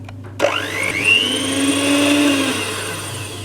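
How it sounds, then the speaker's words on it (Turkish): An electric hand mixer spins up and whirs steadily through cake batter after flour, vanilla and baking powder are added, a close, fairly loud motor whine with a slight pitch drift and no talking. "Ekledikten sonra tekrardan karıştırıyoruz."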